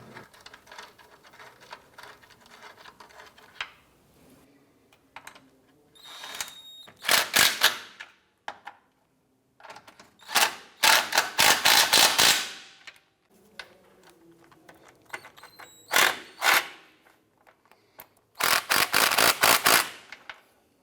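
Bolts and nuts on the rear lower transmission mount of a 2004-2008 Acura TL are tightened with a ratchet, heard as fast bursts of sharp metallic clicking separated by short pauses and quiet handling noise, close up.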